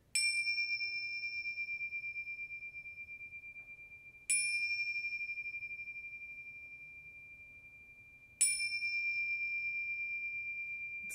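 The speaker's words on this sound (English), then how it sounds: "And you usually hear it as three chimes" Tingshas strike three times at slow, even intervals, each bright metallic chime ringing clear and alone before fading slowly into near-silence.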